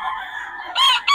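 Kelso stag gamefowl rooster at a market crows loudly and close by, a short raspy call ending in two strained bursts.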